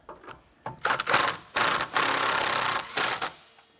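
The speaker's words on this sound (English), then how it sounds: "I'm going to go ahead and shoot one of our screws in, just to hold it in place" A screw driven into a Forest River travel trailer's frame with a power drill during a Curt weight distribution and friction sway control install, several short whirring bursts with brief pauses, close and loud.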